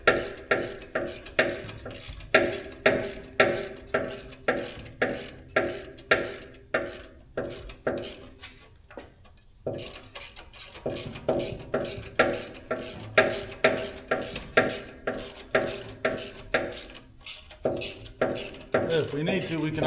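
A ratchet clicks in rapid repeated bursts while tightening exhaust parts on a 1962 Chevrolet C10, loud and close, with a short pause midway and some talk over it.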